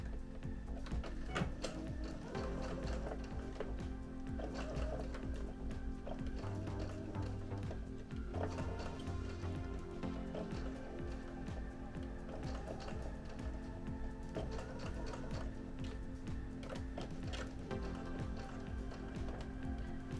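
A sewing machine stitches around a black fabric eye on white fabric for an Appa plush, a steady continuous mechanical whir with a fast, even rhythm running throughout at close range.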